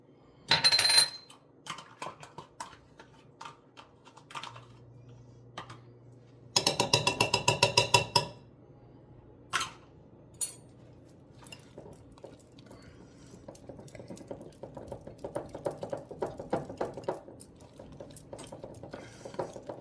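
A spoon stirs carrot cake batter in a big, heavy bowl with irregular scraping and clattering. A loud burst of rapid clinking comes midway, then softer, steady mixing sounds.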